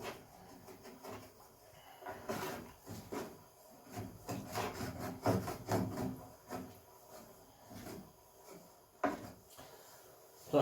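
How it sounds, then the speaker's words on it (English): Metal spoon scraping browned fond off the bottom of a pan, a series of uneven rasping, grating strokes that come in bursts with short pauses, fairly close and moderately loud, with no voices. "try to scrape off all the fond. And don't do this with a metal spoon like I just did"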